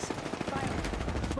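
Gunfire in a competitive battle royale video game: rapid automatic bursts rattle continuously through the short stretch, fairly dense and mixed with game ambience and faint voices.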